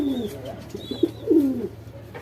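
A pigeon coos softly and close by, a few low throaty warbles over a faint background hum.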